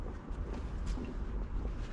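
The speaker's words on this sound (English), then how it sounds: "It is windy. If you can hear the wind" Steady wind buffets the microphone at a sea fishing spot in Immingham, a constant low rumble and roar filling the whole stretch with no other clear sounds.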